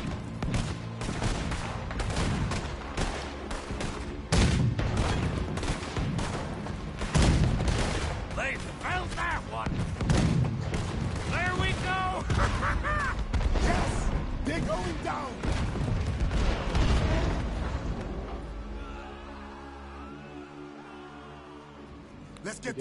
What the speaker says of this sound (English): That was quite some shooting, boys.